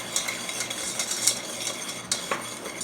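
A quick bourbon sauce for bread pudding stirred in a pan, with a spoon scraping and clinking against the metal in uneven strokes over a faint simmering hiss, close by and without any talking.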